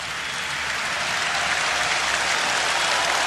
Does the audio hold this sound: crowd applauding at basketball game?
yes